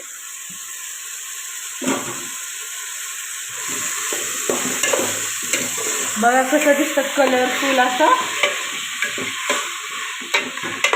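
Mixed vegetables such as carrot frying in a spiced tempering with raw masala for masala rice, with loud continuous sizzling and frequent stirring scrapes while a person talks over it.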